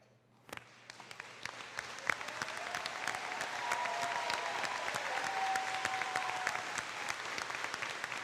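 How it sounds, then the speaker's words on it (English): Applause from the crowd at a 2019 high school graduation begins with a few scattered claps and swells into steady, sustained clapping that fills the hall. "Please stand for us to applaud and express our gratitude"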